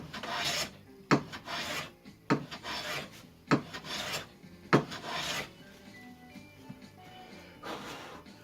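An antique wooden hand plane takes light shavings off wood, giving four sharp, close strokes, each a quick scraping hiss that fades, followed by quieter brushing handling sounds.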